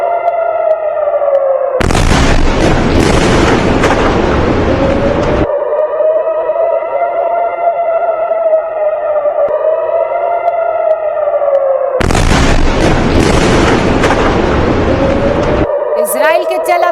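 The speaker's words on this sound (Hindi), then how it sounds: "पहले सायरन की आवाज सुनाई दी, उसके बाद धमाके की आवाज आपने सुनी" In Tel Aviv, a wailing air-raid siren rises and falls steadily while two long, loud bursts of broadband roar from ballistic missile impacts tear through it.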